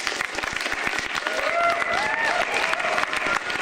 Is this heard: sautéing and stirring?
no